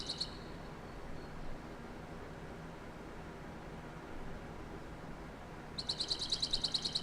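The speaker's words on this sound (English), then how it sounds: "Birds chirping." Short bursts of high, rapid bird chirps from the video game Payday 2 at the start and end over a faint steady hiss, quiet and without voices.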